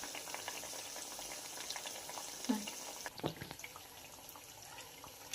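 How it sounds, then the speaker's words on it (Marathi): Anarse, a sweet, deep-frying in hot oil over medium heat, giving a steady soft bubbling hiss with a few faint clinks, close by and without talk. "मीडियम गॅसवर हे अनारसे फ्राय करून घ्यायचे आहेत"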